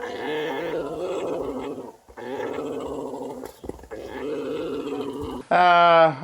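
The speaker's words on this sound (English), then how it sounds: "Oh, Marlene's growling a bit" An animal on a farm growls in long, low rumbling stretches broken by brief pauses, close and fairly loud, ending in a sudden higher whining cry.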